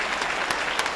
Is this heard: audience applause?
yes